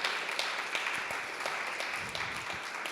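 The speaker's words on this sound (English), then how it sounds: "Another round of applause for them." An audience at a spoken-word event applauds the writers, a dense wash of clapping heard from within the room, moderately loud and sustained.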